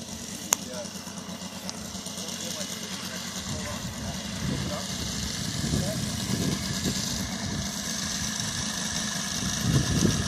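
A model aircraft radial engine runs outdoors in the wind, a steady close buzzing drone with a rough, fluttering texture that builds slightly toward the end.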